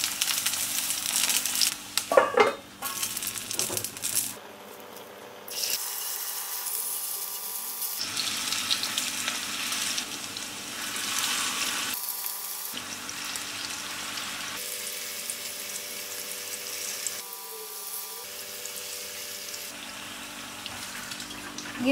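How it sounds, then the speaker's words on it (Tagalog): Filipino longganisa sausage cooking in a pan with a little water, a close continuous sizzle and bubbling with brief stirring clatter and a few abrupt cuts, without talk. "Ginagawa namin cook sa longganisa is, binoboil muna namin siya sa water, konting water."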